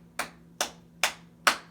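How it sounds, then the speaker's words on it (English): Four slow, evenly spaced hand claps, crisp and close, with a short pause between each in an otherwise quiet room. "I don't know why I just started clapping"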